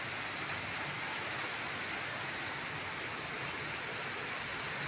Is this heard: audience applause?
no